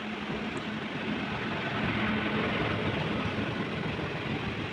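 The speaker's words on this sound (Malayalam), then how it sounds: "നല്ല കിടിലൻ മഴയിൽ ഒരു ട്രെയിൻ വരുന്നുണ്ട്" Kozhikode–Thiruvananthapuram Jan Shatabdi Express arriving at Edappally station in heavy rain, a broad steady rumble and hiss of rain and rolling train noise that swells slightly midway, with no voices.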